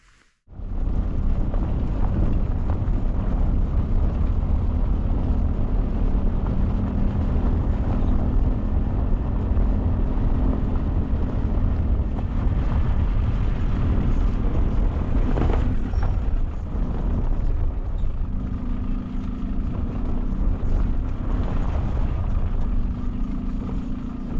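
Car driving to a forest plot, a steady loud low engine and road rumble heard from inside the vehicle, continuous throughout with no talk.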